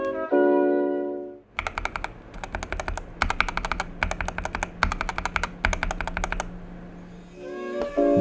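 Close-miked typing on an ergonomic mechanical keyboard with Krytox 205-lubed switch stems and housings and Krytox 105 springs, giving several quick bursts of dense, even keystrokes separated by brief pauses.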